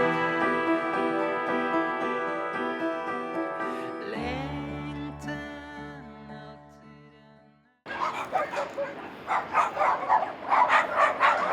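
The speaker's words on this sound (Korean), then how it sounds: "강아지 170여 마리가 햇살을 즐기며 마당을 거닙니다" Dogs at a seaside hillside rescue shelter in Geoje, where about 170 are kept, heard after a long sustained musical passage. Several barks and yips follow close and loud in quick, uneven bursts.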